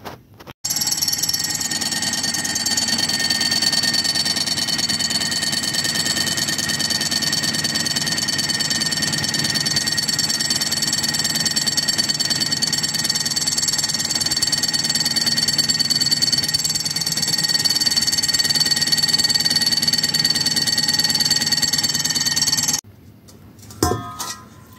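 Die grinder spinning out a clutch bearing from an Ironhead Harley-Davidson Sportster, a steady high-pitched whine held loud and unbroken for over twenty seconds before cutting off, followed by a few brief knocks.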